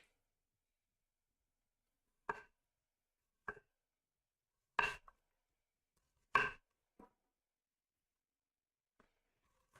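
A knife slices an onion on a chopping board: about five sparse, crisp knocks of the blade meeting the board, spaced a second or more apart in an otherwise quiet kitchen.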